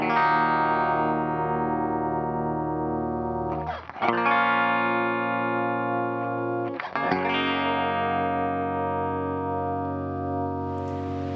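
Clean electric guitar played through a Fender amp model with modulation effects, a steady ringing chord that is struck again twice with brief bright attacks, shimmering and washed in reverb with no voices.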